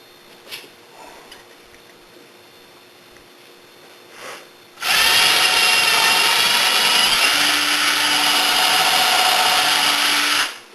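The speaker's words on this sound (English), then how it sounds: "drill one of the holes, make sure it's still lined up." After a few quiet seconds, a power drill kicks in loudly and whirs steadily for about six seconds as it bores a hole in a soap mold, then stops.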